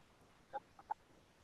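A rooster gives two or three soft, short clucks in quick succession. They are faint and set against a quiet, hissy background.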